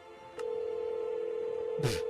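A phone rings in Minecraft Dungeons & Dragons, a steady electronic tone sustained under a brief click, ending with a short burst of noise.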